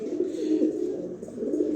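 Young racing pigeons coo continuously at close range, a low, throaty, rolling call that runs without a break.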